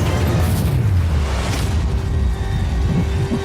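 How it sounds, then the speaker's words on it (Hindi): Firecrackers go off during a Mr Beast challenge, heard as a loud, continuous booming rumble with heavy low-end roar that stays dense throughout. No voices can be heard. "पटाखे फूटने वाले हैं"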